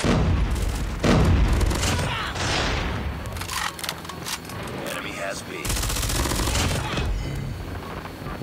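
FFAR 1 assault rifle firing in an online shooter game: rapid bursts of automatic gunfire with booming impacts and surrounding battle noise, continuous and loud, with a player talking over it.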